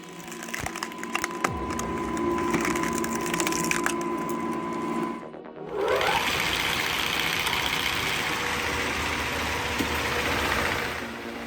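An electric firewood log processor, formerly tractor-powered, splitting logs: a steady mechanical drone and grinding roar carries through, then a brief sharp break and a dense, crackling churn of wood being split, loud and continuous.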